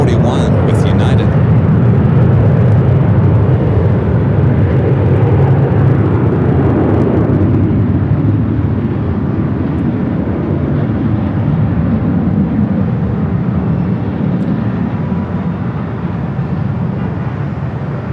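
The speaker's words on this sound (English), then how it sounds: "Next arrival is a 757-200 coming in from Newark, flight 1041 with United." A United Boeing 757-200 jet, flight 1041 from Newark, arriving at Los Angeles International Airport, producing a loud, steady, broadband roar and rumble that persists for the whole stretch.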